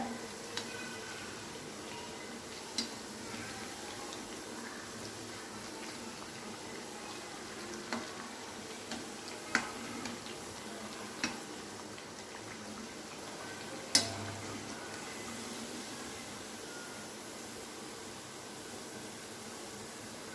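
Chickpea (white chana) vadai frying in hot oil as the pieces are turned, giving a steady, even sizzle with scattered sharp clicks and pops and no talking.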